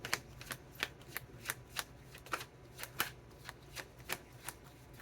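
Tarot cards shuffled and handled at close range during a reading, a steady series of crisp riffling snaps and slaps repeating about every third of a second, with no talking.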